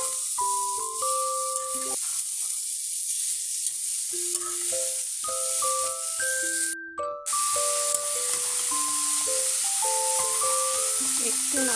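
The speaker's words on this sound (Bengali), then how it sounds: "একটু নাড়াচাড়া করে নিচ্ছি" Bottle gourd is stirred in a hot pan for a milk-based shukto, giving a constant bright sizzle under light background music with melodic notes.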